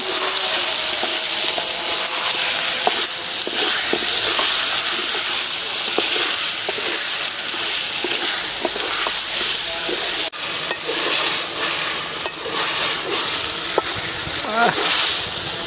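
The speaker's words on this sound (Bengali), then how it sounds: "এই যে এখন আলু দিয়ে দেবো, আলু কষানো।" Potatoes with spices being fried and stirred in a pan for a spinach and fish dish, a steady loud sizzle with scattered clinks of a utensil, while people talk over it.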